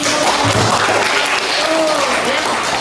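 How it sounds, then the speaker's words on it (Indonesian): Loud, dense applause in a high-school class, continuous clapping with a voice faintly under it. "Tepuk tangan dong"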